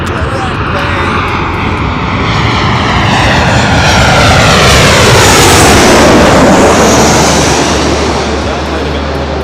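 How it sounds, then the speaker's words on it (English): A low-flying airplane passes directly overhead at LAX, seen from a parking garage, its jet roar filling the air very loudly and swelling steadily to a peak before easing slightly. "That was extremely loud as the planes are flying directly over our head here today."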